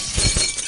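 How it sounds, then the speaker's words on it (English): A brief, bright burst of shattering glass in the video game Happy Wheels, loud and sharp, fading quickly with no one talking. "I gotta focus on breaking glass."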